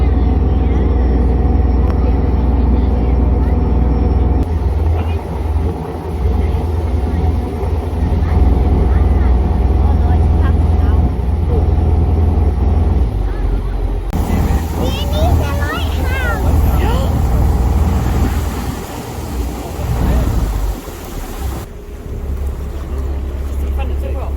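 A boat engine drones low and steady throughout on a grey seal cruise to the Farne Islands, mixed with wind buffeting the microphone and people talking over it.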